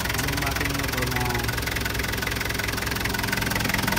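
A Hyundai Grace with a D4BX diesel engine, showing blow-by smoke at the dipstick and breather hose, idles with a dense, steady clattering knock, loud and close, its rough rhythm continuing unbroken.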